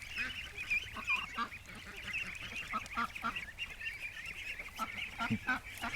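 Ducks call repeatedly, honking and quacking in overlapping bursts at close range, a busy fowl chorus throughout.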